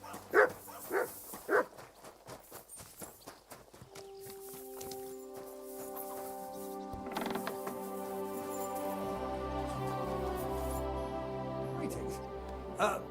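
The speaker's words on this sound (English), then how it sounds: "Good doggy, good boy." A dog in the video game Kingdom Come: Deliverance II, giving a few sharp barks near the start, followed by footsteps and a low, sustained musical drone with mechanical sounds.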